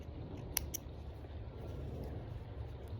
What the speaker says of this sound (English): cut your yarn down